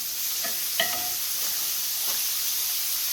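Frozen tomatoes hit a hot pan with bacon and sizzle steadily, giving a broad hiss of frying under a few soft clinks and stirring sounds, with no talk.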